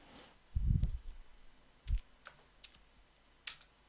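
Computer keyboard keys pressed in short bursts while entering text in SolidWorks, a few close, crisp clicks and taps separated by pauses, with no voices.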